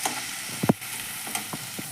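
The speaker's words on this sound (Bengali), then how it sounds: "আমার মশলাগুলো সুন্দর ভাজা হয়ে গেছে" Spices fry in hot oil for a Bangladeshi egg curry, dim telani: a steady sizzle broken by a couple of quick scraping stirs, close and brief.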